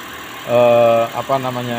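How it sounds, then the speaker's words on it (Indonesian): A Daihatsu Xenia Great New engine cranks and catches, then settles into a steady, close idle with a slight stumble partway through; someone talks over it. "maka begitu mesin di starter, engine hidup"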